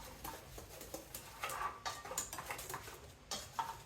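Box cake batter is mixed in a bowl, with faint, quick clinks and scrapes of a utensil against the bowl in an irregular rhythm.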